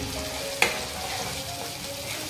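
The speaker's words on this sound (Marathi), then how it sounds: "वाटण मस्त परतून घ्यायचं चांगलं." Masala paste for a prawn curry fries in a pan with a steady, close sizzle and a single small clink of the spoon early on, with no talking.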